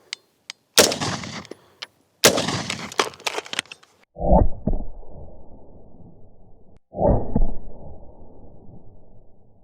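A sharp, loud gunshot fired at a ceramic armor plate cracks out amid clattering impacts, followed by deep booming reports that echo and decay over several seconds.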